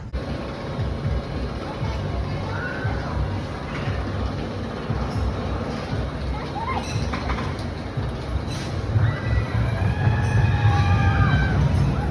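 Continuous rattling rumble of the small Turbulence roller coaster at Adventureland Long Island on its track, with clanking and brief squeals, loud and close throughout, intensifying near the end.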